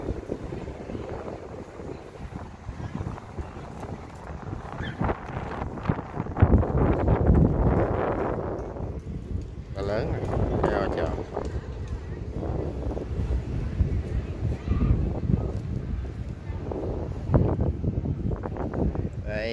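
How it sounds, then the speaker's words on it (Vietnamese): Wind gusts buffet the microphone outdoors beside a riverside temple to the Hung Kings in Can Tho, a steady rough rush that swells and eases across the clip, with voices mixed in. "Ở mấy bên này gió rất là mát"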